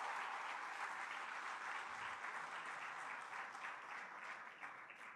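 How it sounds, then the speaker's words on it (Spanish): A church congregation applauds during a Sunday sermon, broad continuous clapping heard faint and distant, holding steady for several seconds before easing slightly. "Yo quiero que le den un aplauso a los que con su amor sostienen a la iglesia."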